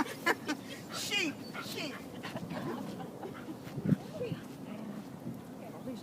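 Herding dogs whimper and give short yips among sheep, a few brief sharp cries scattered over the scene with people talking in the background.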